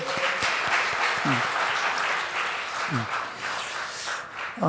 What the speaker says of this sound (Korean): 자, 우리 박수 축하한다